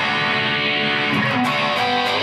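A heavily distorted electric guitar rings out in a dense, sustained riff, loud and close with no voices.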